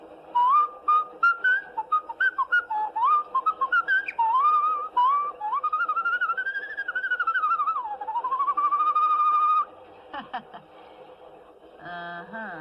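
A lively whistled tune of Yankee Doodle, played as a run of short bright phrases and longer held notes, fairly close, ending with a few soft clicks.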